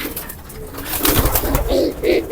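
Pigeon kept by a fancier gives soft throaty coos close up, several muffled pulses building over a couple of seconds with faint background noise.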